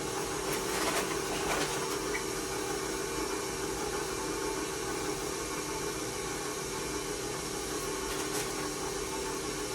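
Electric mixer running on low, beating brown sugar and white sugar into red velvet cookie dough, a steady continuous whirring hum held for the whole stretch with a few faint clicks, close and without talk.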